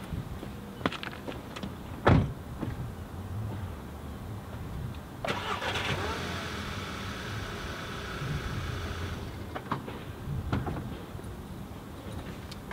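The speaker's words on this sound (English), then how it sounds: "I'll start the ignition and you'll see them fold in, or uh, fold out even" A VW Eos car clicks, then its engine cranks and fires into a steady idle, followed by a several-second electric whir as the wing mirrors fold out. A final click comes over the running engine, with no talking.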